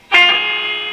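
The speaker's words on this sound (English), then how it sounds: "That's one reverb sound." The spring reverb of a Selmer Thunderbird 50 MKII valve amplifier, a single loud, close tone bursting in with a distorted, metallic ring that holds for most of a second before a fresh burst begins.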